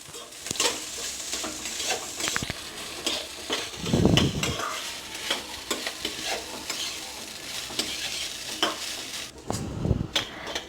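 Idiyappam tossed with scrambled fried egg in a pan, stirred steadily: a continuous close sizzle broken by scraping, clattering strokes of the spoon against the pan, with a louder scrape around the middle and another near the end; no talking.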